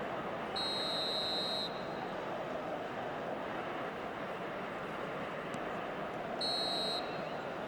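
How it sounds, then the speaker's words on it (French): A referee's half-time whistle in the football video game eFootball 2023 sounds twice, with a long blast at the start and another near the end, over a steady roar of crowd noise. "Et c'est le coup de sifflet, c'est la mi-temps."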